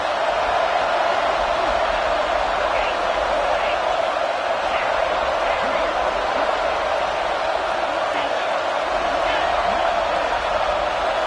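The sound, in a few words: home crowd cheering at football game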